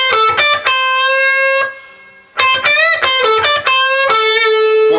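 An electric guitar with a distorted tone plays a quick lick, with plucked notes, a slight quarter-step bend, a short pause, then a further run of clear, sustained notes, loud and close.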